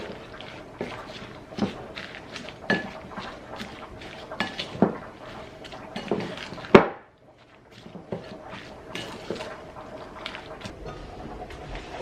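Food is stirred in a pot at home, with a spoon clinking and scraping against the sides in irregular taps and knocks over a faint background hum. One louder knock is followed by a brief pause before the stirring resumes.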